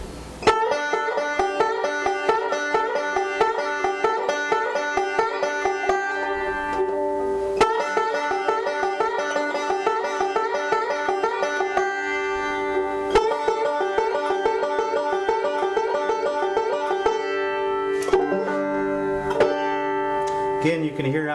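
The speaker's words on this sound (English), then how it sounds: "now we're going to incorporate the choke into that pattern. And it's going to sound like this." Picked strings repeat a forward roll pattern, with string chokes bending some notes upward. The rolling, continuous run of close, clear notes lasts about twenty seconds, with brief breaks between phrases.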